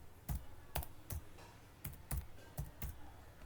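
Keys on a computer keyboard are typed in short bursts, several distinct clicks spaced irregularly, close and clear with no talking, as a pip install command is entered.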